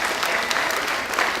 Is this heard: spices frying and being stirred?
no